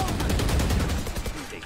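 Video game gunfire bursts out in a rapid fusillade of machine-gun-like shots, fairly faint and quickly tapering off, with voices murmuring faintly in the background.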